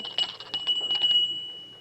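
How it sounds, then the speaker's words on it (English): An electric doorbell in an old Sherlock Holmes radio drama rings in a few short bursts followed by a longer continuous ring, fairly close and clear, with faint knocks. "At least we'll try the bell once more"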